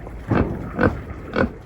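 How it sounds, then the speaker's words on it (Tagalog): A pig grunts three times at a steady pace, close and fairly loud, in a backyard farm setting with no talking. "Ito yung baboy guys."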